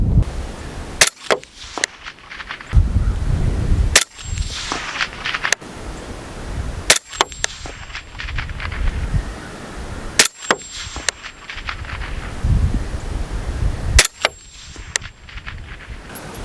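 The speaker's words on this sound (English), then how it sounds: "now we've got the Diligent Defense Enticer S mounted up. Let's run 5 rounds through that." Suppressed 5.56 rifle shots from an 11-inch barrel fitted with a Diligent Defense Enticer S suppressor ring out loud and close as sharp single cracks, spaced several seconds apart, with quiet pauses between.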